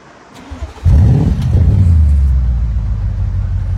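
An Audi RS7 with a Milltek exhaust fires up: a brief starter whir, then a sharp loud bark that settles into a deep, steady rumbling idle, close by and alone.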